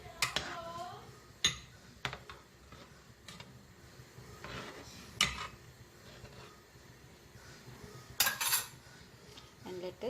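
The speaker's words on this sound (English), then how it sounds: "and give it a nice stir. But you have to gently stir it." A small spoon gently stirs kingfish curry with coconut milk in a pot, making scattered light metallic clinks and scrapes at irregular intervals over a quiet background.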